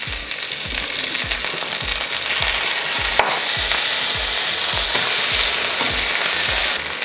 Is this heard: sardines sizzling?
yes